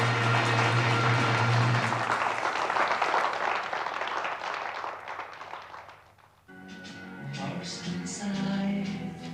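An audience applauds a satirical stage performance, a long, full wash of clapping that gradually thins and fades, followed by quieter sounds with some voices.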